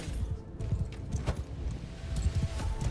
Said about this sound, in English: They're charging with like 9 horse archers.